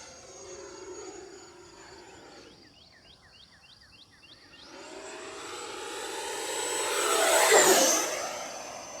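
A Horizon Hobby Viper 90mm RC jet's ducted-fan whine sweeps past from afar, building to a loud, close roar near the end of a high-speed pass on a calm evening, then fading.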